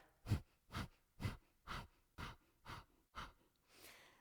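Rapid, forceful rhythmic exhalations through the nose in Kundalini breath of fire, about eight sharp puffs in a steady pulse, close and clear.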